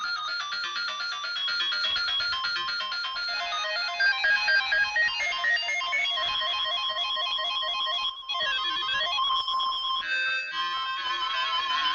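Chiptune-style Amstrad CPC464 game music from Agent X2, with bright square-wave tones, fast arpeggios and steady beeping rhythm, playing continuously and loudly with no voices.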